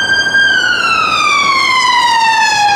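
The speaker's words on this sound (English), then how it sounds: "Oh, it's an ambulance." An ambulance siren passes in the street outside Musgrave police station in Northern Ireland: a loud, steady wailing tone whose pitch slides gradually downward as the vehicle moves past, with no talking over it.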